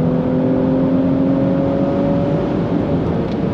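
An Audi B9 S4 fitted with an upgraded intercooler pulls hard on a road performance run, its engine note a steady loud drone climbing in pitch as it accelerates through the gears.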